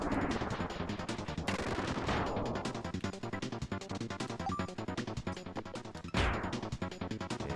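Explosions burst in the SNES game Kirby's Dream Course: loud, dense crackling blasts with heavy hits near the start and again later, all in synthesized game sound effects.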